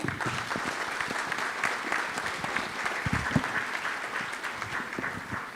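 A conference audience at an energy event applauds a panel, with sustained, even clapping from many hands filling the room throughout.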